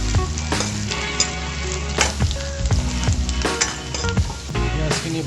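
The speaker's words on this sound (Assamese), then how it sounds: "এতিয়া পিঁয়াজ ফ্ৰাই কৰিম" Sliced onions fry in a hot pan with a loud, continuous sizzle, broken by occasional clicks and scrapes of stirring close by.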